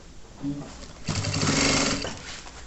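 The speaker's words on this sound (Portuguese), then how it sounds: "Vou rebater aqui a minha costurinha, ó. Aqui onde eu não havia rebatido." A sewing machine topstitches a seam on a child's backpack in one steady burst of about a second, close and fairly loud, with a voice speaking around it.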